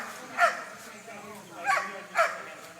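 A protection-trained dog barks three times during a guarding demonstration where it guards its handler against a decoy, with sharp, fairly close barks spaced over a few seconds.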